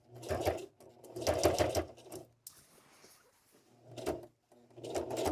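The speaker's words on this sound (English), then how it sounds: "I back stitch first, and then go forward all the way to that pin." A sewing machine back-stitches, then runs forward on pleated curtain fabric for an Airstream trailer, in short close bursts of rattling stitching separated by brief pauses and soft handling noises.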